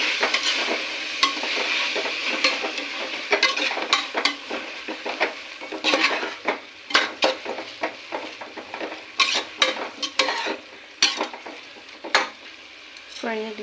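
Chopped fenugreek leaves fry in a pan for pulao, a steady sizzle punctuated by many sharp, irregular spatula scrapes and clinks against the pan as they are stirred.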